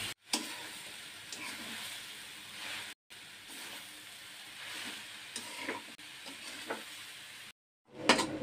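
Coconut and sugar with a splash of water being stirred in a pan for kheer naru, a steady soft scraping and sizzle with a few brief pauses and no talk.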